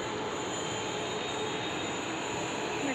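A metro train arrives at platform 3 in Hyderabad with a steady, broad rumble and rushing noise that holds loud and constant, a faint squeal near the end.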